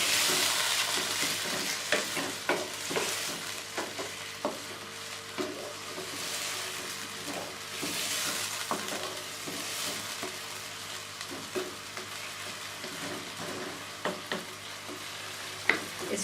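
Chicken pieces are stirred through yogurt in a pan, giving a soft, steady sizzle with intermittent spoon scrapes and clicks every second or two, fairly quiet and close.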